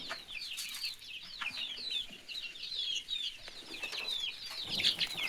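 Young native country chickens cluck and cheep continuously at close range, a steady overlapping chatter of short calls with faint shuffling underneath.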